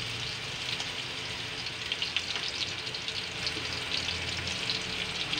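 Ground meat sizzles and fries in a pot for soup, a dense steady hiss with scraping stir strokes running throughout, close and fairly loud.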